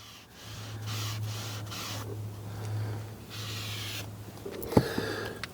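A microfiber pad wipes Armor All interior dressing across a car's interior surface, giving a soft, steady rubbing swish with a low hum underneath and a brief knock near the end.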